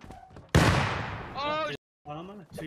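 A grenade in the Rust video game explodes in one loud, sudden blast with a rumbling decay, as excited voices shout before and after it.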